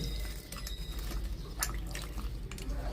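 Water is poured over palmyra sprouts (tyagalu) to soak them, a quiet trickling and splashing with small irregular drips close by, no talk.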